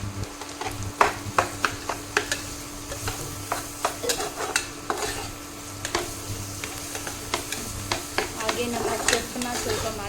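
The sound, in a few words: frying onions with ginger garlic paste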